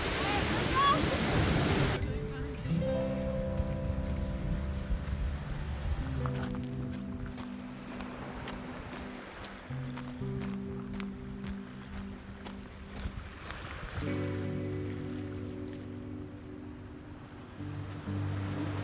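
Waterfalls at Glacier National Park on a wet, foggy day, steady rushing water roaring throughout, with a sharp start, while people talk over it on and off.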